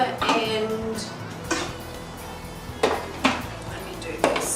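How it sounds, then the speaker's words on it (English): Blender parts clattering as it is assembled in a kitchen, a few sharp plastic knocks and clicks spaced out over a quiet background, close by. "Just get my blender together and"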